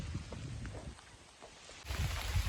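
Rain falls steadily outdoors where free-ranging chickens are grazing, a soft, even patter with scattered drops and low rumbling, fairly faint and continuous.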